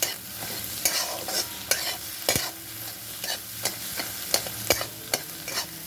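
A spoon stirring oregano and chili flakes through an egg mixture in a frying pan, regular scraping strokes over a constant close sizzle.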